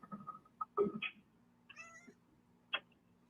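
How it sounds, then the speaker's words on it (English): A cat meows several times indoors, sounding close and fairly quiet, with short needy calls and a longer wavering cry separated by brief pauses. "There's some meowing going on there."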